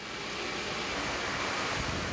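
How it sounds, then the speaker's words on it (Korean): An air shower at the hygiene station of a ready-meal lunchbox factory blows a strong, continuous rush of air. The steady hiss stays loud and unbroken from start to finish, with no voices. "씻은 손을 말리고 나면 최종 관문인 에어 샤워 단계가 기다리고 있는데요"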